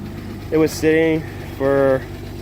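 A BMW E30 idles with a leaking aftermarket exhaust, a steady low rumble running beneath someone talking in short bursts close by.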